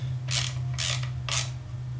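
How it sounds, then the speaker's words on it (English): A lock plate on a motorcycle primary chain is tightened with a tool, giving three short ratcheting scrapes at an even pace over a constant low hum, close and fairly loud. "You want to tighten up the lock plate down here."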